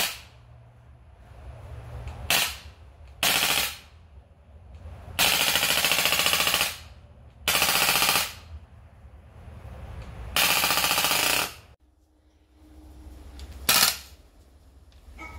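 An AK1 gun fired in repeated bursts, loud rapid rattling volleys separated by quieter gaps and a few single sharp cracks, close and harsh.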